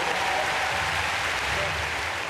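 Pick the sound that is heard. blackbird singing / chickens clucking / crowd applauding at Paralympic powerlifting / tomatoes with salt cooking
crowd applauding at Paralympic powerlifting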